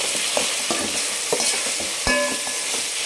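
A spoon stirs garlic paste frying in a pan for tomato rice, with intermittent scraping strokes against the pan over a constant close sizzle.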